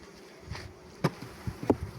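Soft, steady buzzing of honey bees at an opened hive, fairly faint, with a few brief louder knocks and rustles breaking through.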